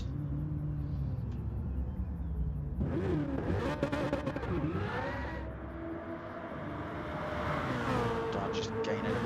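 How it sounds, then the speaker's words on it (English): A BMW M3 Gr.3 race car in a racing video game does burnouts at Monza, a loud, continuous engine roar that rises and falls in revs over a rumbling drone, with a commentator talking over it. "That's Manny doing some burnouts for us"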